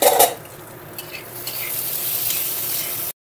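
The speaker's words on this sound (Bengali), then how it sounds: "পেঁয়াজের চাপাটা খুলে আলুটা নেড়ে দেব," Potatoes frying in a pan are stirred with a utensil, a brief clatter and scrape at the start followed by a steady close sizzle that cuts off abruptly.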